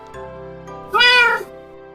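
A cat gives a single clear, close meow in the middle of the clip, rising and falling briefly over a quiet background hum.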